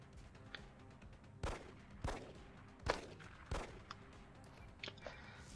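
Gunshots from a pistol reaction shot in XCOM: Enemy Within, four sharp cracks spaced about a second apart over a low game ambience, each with a short decaying tail.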